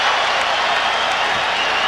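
A basketball arena crowd at Game 6 of the 1992 NBA Finals between the Bulls and Blazers keeps up a steady, loud roar of cheering and applause throughout.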